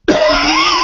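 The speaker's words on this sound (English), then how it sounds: "Sorry, I'm coughing." A single harsh, loud cough from a person close by, sharp onset that stays strong for nearly a second, with no talking.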